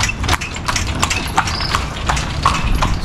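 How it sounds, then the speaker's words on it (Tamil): Hooves of a horse pulling a carriage clip-clop steadily on a sunny street in Mexico, close and loud, in a regular trotting rhythm with faint street ambience behind. "இந்த குதிரை வண்டியும் சூப்பராக இருக்குது"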